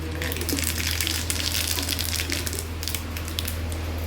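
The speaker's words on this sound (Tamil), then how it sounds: "நெய் கொஞ்சம் ஊற்றிருக்கேன். அதில் கொஞ்சம் கடுகு," Mustard seeds crackle and sizzle in hot ghee while tempering for a snake gourd kootu, a dense, steady frying hiss heard up close with no talking.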